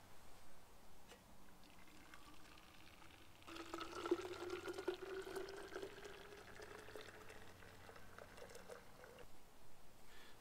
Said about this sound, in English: you can pour boiling water directly into a Nalgene